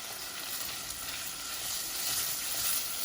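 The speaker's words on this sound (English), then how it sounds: "So while the fat is coming out of the bacon and the butter is melting" Bacon sizzles steadily in a pot as its fat renders alongside melting butter for clam chowder, a loud, continuous frying hiss with no talking.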